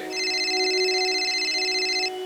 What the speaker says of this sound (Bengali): আবার একটি ফোন এসছে।